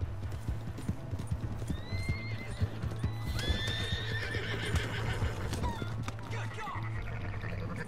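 Hoofbeats of a horse galloping in the open-world game Red Dead Redemption 2, a steady clip-clop rhythm with a few whinnies, running under continuous game ambience and low-pitched hum throughout.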